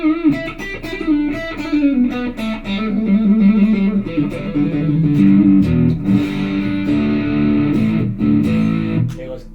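Electric guitar played through an MXR M75 Super Badass Distortion pedal, loud close distorted chords and sustained notes ringing in a loose rhythm, with string noise between strums.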